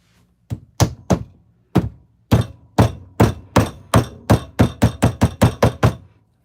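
A hammer strikes a workbench project over and over with sharp, solid thuds, slow and uneven at first, then speeding into a steady rapid rhythm.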